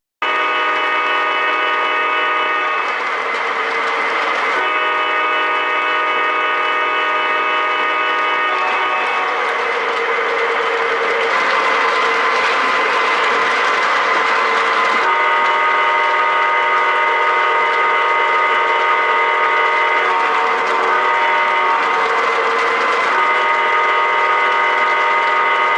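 An O gauge FM Train Master model train runs continuously, its whistle sounding in a loud sustained chord that shifts pitch several times over a steady running hum, with no talking.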